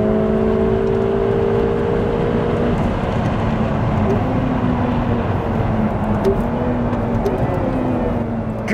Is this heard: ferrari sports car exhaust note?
yes